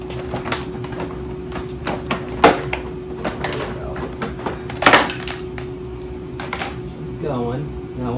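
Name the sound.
Ryobi generator engine running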